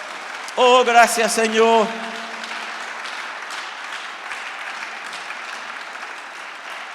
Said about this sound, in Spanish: Dale un buen aplauso a nuestro Dios por ello.